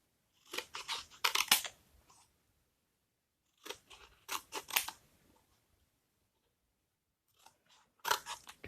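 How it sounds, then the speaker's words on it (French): Scissors snip paper strips into small square cards in three separate bursts of quick crisp cuts, close and clear against silence. "il suffit de les couper en petits carrés"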